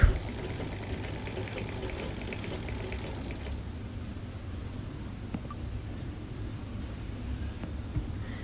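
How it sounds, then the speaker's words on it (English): A sewing machine stitches a long strip of fabric for a kimono dress, rapid needle chatter buzzing for a few seconds before stopping, leaving a faint low background hum. "So I'm going to stitch it all the way down to the end of the long"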